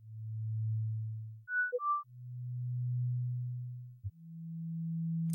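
A dry synth line live-coded in Sonic Pi plays clean, pure sine-like tones: a long low note, two short higher blips, then more sustained low notes, heard alone with no effects and no talking.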